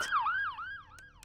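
An ambulance siren in Five Nights at Freddy's 4, a wailing tone sweeping up and down in pitch, loud at first and then fading slightly, with a couple of sharp clicks near the end.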